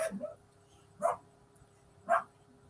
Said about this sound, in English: That's a dog bark.